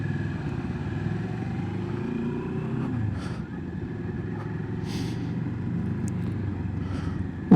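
A 2022 Moto Morini X-Cape 650 motorcycle idles at about 1400 RPM, a close, steady low engine rumble that continues evenly throughout with no talking.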